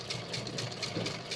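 A sewing machine runs steadily while stitching three blouse pieces together, producing a continuous, fairly quiet mechanical whir with a rapid repeating needle rhythm and no talking.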